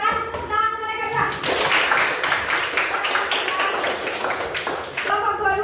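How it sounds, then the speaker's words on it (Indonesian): Students in a classroom clap for a student group, a dense burst of hand claps lasting about four seconds, loud and close, with children's voices before and after. "terima kasih tepuk tangan untuk mereka dua."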